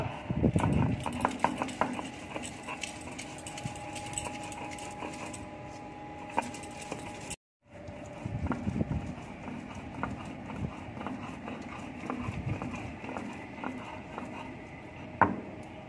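Spices for chingri paturi, first lightly fried and cooled, are ground by hand. A string of irregular knocking and scraping strokes runs on and off, with a short silent break in the middle.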